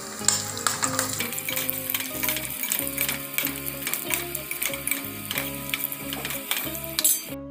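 Raisins and cashews frying in ghee in a pan make a bright, continuous sizzle with crackling pops, overlaid by rhythmic stirring scrapes and clinks of a spoon against the metal, steady and close throughout.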